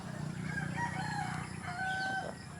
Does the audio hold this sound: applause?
no